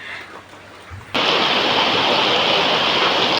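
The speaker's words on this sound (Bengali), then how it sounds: "তো সরিষার তেলটা দিয়ে এখন আমি এর মধ্যে দিয়ে দেবো পেঁয়াজ কুচি আর মরিচ কুচি" Chopped onion and chili strips hit hot mustard oil in a wok, bursting into a loud, steady, close sizzle that holds without pause.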